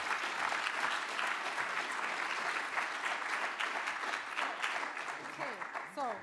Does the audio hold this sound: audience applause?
yes